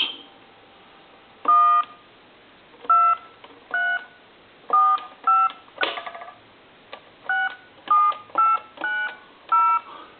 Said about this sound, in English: And now what we're going to do is dial some numbers.